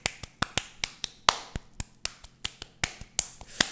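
Sharp finger snaps ring out as applause, about a dozen crisp clicks in a fairly steady rhythm, close and clear with no talking underneath.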